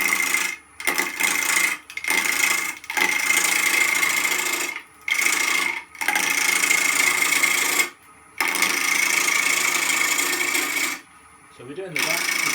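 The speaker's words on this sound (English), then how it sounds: "we've got to start turning into the blur" Wood turning on a lathe for a soap dish, a rough rasping scrape as the tool cuts the spinning blank, repeated in long bursts broken by short silent pauses, close and loud.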